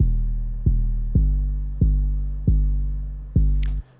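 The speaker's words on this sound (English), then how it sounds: "To make this 808 really bang, I'm gonna put an open hat, you'll see these ghost notes, almost every time the 808 plays." An 808 bass pattern with open hi-hat ghost notes, deep booming bass hits decaying slowly, each joined by a bright hissy open hat, about six hits over four seconds, loud and dry with no voice.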